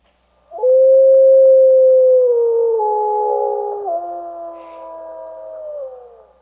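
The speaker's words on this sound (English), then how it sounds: "the sound of a wolf howl represented in this spectrogram" A single wolf howl rises sharply and holds as a long, clear, sustained tone, gradually wavering and falling in pitch before fading out, alone against silence.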